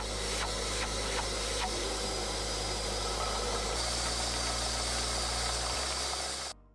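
A small workshop cyclone dust extraction system runs steadily with a loud, continuous motor drone and airy rushing whoosh, holding an even level before cutting off abruptly at the end.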